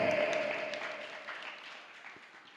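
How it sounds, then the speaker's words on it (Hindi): A crowd claps in a burst of applause that starts loud and gradually fades away. "अरे तालियां बजाओ प्रजाजनों, तालियां बजाओ"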